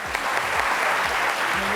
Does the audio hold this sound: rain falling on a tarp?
no